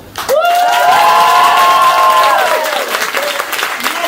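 A comedy club crowd claps and cheers wildly, with loud whooping shouts rising over a thick bed of applause that fades into scattered clapping after a few seconds.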